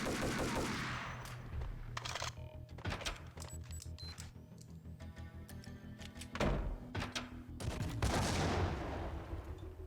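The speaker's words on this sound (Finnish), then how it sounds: "Okei, mä ammun ihan liian ylös." Gunfire fills a fight in the video game Max Payne 2, with rapid bursts of shots and heavy thuds arriving in dense clusters, loud and continuous over game noise.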